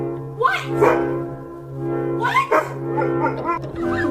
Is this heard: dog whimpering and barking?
yes